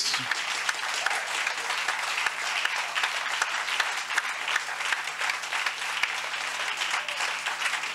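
A church congregation at a Sunday worship service claps in praise of God, a sustained, dense wash of applause filling the room steadily from start to finish with no pauses.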